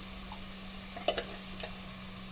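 A spoon stirs turmeric into a pan of frying beans and tomato curry, with a few soft scraping clicks over a faint, steady sizzle and a low hum; no one speaks.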